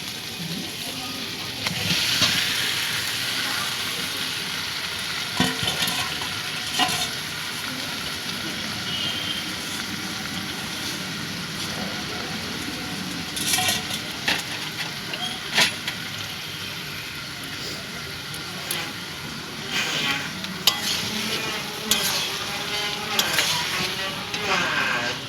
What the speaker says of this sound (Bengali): মশলাটা ফুটে গেছে, এবার এর থেকে তেল ছাড়া অবধি অপেক্ষা করবো